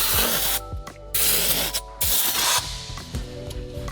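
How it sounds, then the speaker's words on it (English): Loud bursts of compressed air hiss from an air hose drying leather in several blasts, with short pauses and faint mechanical hum between them. "I'll dry with my air hose."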